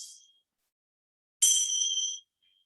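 A small bell rings out to open a yoga class: the fading tail of one strike, then a single clear, bright ding that rings briefly and stops.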